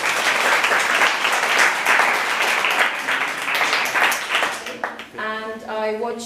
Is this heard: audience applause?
yes